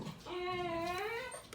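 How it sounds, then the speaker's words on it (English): Dogs squabbling near a person, one of them a small, territorial wiener dog, giving a sustained high whining yelp with a slight rise and fall, close and fairly loud, for about a second and a half. "And my dogs are fighting."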